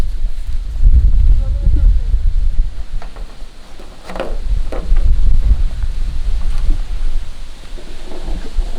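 Wind gusting across a frozen pond outdoors in winter, a steady low roar with microphone buffeting that swells and eases throughout, while people talk intermittently nearby.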